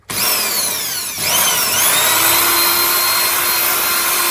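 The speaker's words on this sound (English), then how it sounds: "I prefer a mains power drill because they're a little bit faster than the standard drill" A loud, high-pitched mains-powered drill whines steadily up close, dipping briefly as it bites into plastic, then running on at full speed.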